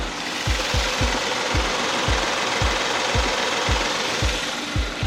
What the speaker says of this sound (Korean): 먼저 엔진 소음 한번 들려보도록 하겠습니다